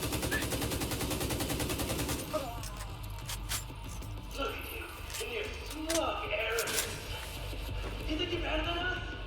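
Gunfire in the Division 2 video game, with a rapid automatic burst opening the clip followed by scattered shots and impacts, all playing under continuous talk.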